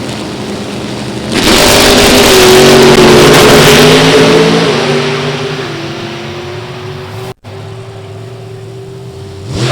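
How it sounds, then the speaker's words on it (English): A 1970 Camaro-bodied drag car with an 814 cubic inch Chevrolet engine launches at an NHRA Division 3 event at Beech Bend, its engine erupting into a loud, sustained roar that slowly fades as the car pulls away, then cuts off abruptly. "70 Camaro bodied entry. 814 cubic inch Chevrolet combination for Jimmy Cowan."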